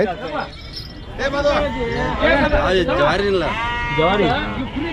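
Goats at a large livestock market in Karnataka bleat loudly and close by, with several overlapping wavering calls, while people talk over them throughout.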